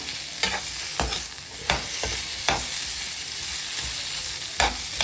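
Onions sauté for a Khandeshi sev bhaji, a constant close sizzle in the pan punctuated by about seven sharp scrapes and knocks of a spatula as they are stirred.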